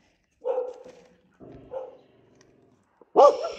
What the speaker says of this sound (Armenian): շուն են տեսել տարածքում, օտար շուն են տեսել